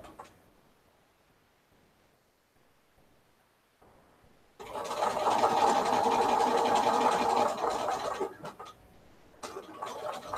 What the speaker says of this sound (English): now I'm going to do another set of stitches